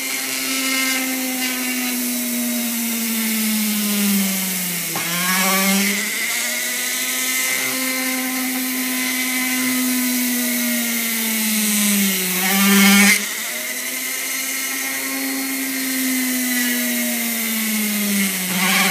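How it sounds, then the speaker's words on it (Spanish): A powered drill bores holes through homemade wind turbine blades made from recycled material, a steady loud whine that dips and re-rises twice as the bit bites, continuous with no talking. "hacer las 3 perforaciones de los puntos marcados que tengo ahí"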